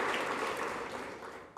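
A church congregation applauds, a dense wash of many hands clapping at once, steady and moderately loud throughout.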